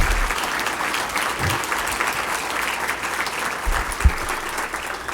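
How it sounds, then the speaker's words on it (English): Dense, steady applause from a large audience honoring the governor, a continuous wash of many hands clapping at even loudness with a couple of low thumps midway. "would you applaud the governor and the governor that's not here"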